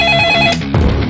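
A telephone ringing with a steady electronic tone for about half a second, loud and close, followed by a brief shuffle of handling noise.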